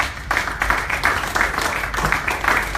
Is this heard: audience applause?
yes